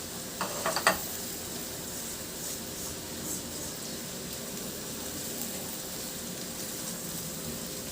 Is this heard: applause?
no